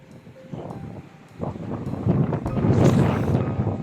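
Gusty wind over Lake Geneva buffets the microphone, starting moderate and building into louder, rougher blasts toward the end, with faint rustling and scattered background noise.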